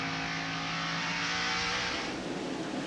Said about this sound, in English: You see the leader go by, Mark Martin, and there's Ward Burton.